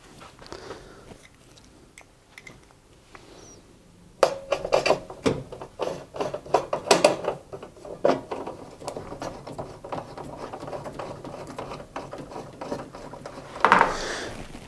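Torx head screws being driven back into the heater assembly of a Hotpoint or Indesit washer dryer, heard as faint ticking and clicking with scattered sharp taps and a brief louder burst near the end, no talking.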